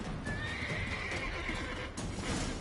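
A horse in The Witcher 3 lets out a clear, close whinny over clip-clopping hooves, with a second shorter snort near the end.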